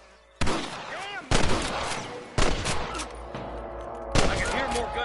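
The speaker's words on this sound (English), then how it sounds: "I can hear more gunshots." Gunshots ring out in the Western video game Red Dead Redemption, four loud, separate blasts a second or so apart, each followed by a ringing, echoing tail over a background of game ambience.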